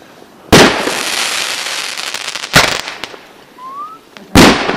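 New Year fireworks over Tromsø, Norway: three loud, sharp blasts spaced a couple of seconds apart, each trailing a crackling rumble, with a brief rising whistle between the second and third.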